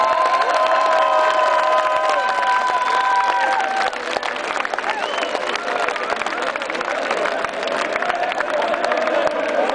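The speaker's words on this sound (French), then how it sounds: "On les applaudit." A large crowd of Standard de Liège football fans in Place Saint-Lambert applauds and cheers loudly, with dense continuous clapping, whistles and shouts; voices call out amid the din.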